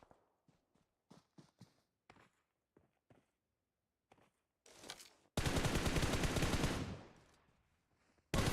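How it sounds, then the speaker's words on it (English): Shotgun gunfire in a battle royale game, a sudden loud dense burst of shots lasting about a second and a half, then fading, after quiet scattered footsteps and small clicks. "Got YKG and Lotus trading blows with shotguns right now."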